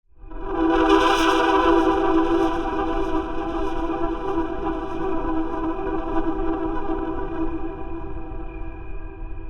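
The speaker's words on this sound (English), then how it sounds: "you can hear that we have this sweep, and then we get this delay effect sitting on the rest of the sustain of the pad" A Serum 2 synth pad opens with a bright filter sweep, then sustains as a rich steady chord with delay echoes trailing over the held tone, loud at first and gently settling as it continues.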